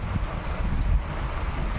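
Steady wind rushes and buffets the microphone during rain on an empty local train platform in the evening, a continuous loud roar with no voices.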